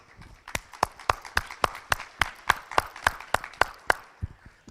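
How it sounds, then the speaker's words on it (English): Rhythmic, evenly spaced claps at a conference livestream in Istanbul, around sixteen sharp hand-claps in a steady beat, close and distinct, with no talk over them. "let's give him one more warm round of applause"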